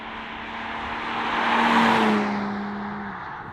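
BMW M3 Competition from 2021 speeding along the unrestricted Autobahn, a loud steady rush of engine and road noise that swells and peaks midway as if passing close, then recedes slightly, with a sustained tonal drone throughout.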